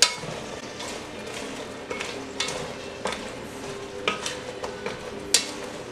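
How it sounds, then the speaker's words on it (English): Yellow squash seasoned with salt and pepper is tossed in a pan, giving a soft sizzle under scattered scraping and clinking of a utensil against cookware, with a few sharper knocks and no talking. "Give that a nice toss with the yellow squash."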